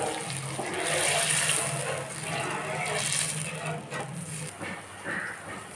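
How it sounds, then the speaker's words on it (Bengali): Water poured into a pan of spiced hilsa fish curry, a continuous rushing splash and bubbling hiss lasting several seconds, fairly close and loud, tapering into gurgles at the end. "একটু নেড়ে চেড়ে সঙ্গে সঙ্গে জল দিয়ে দেবো।"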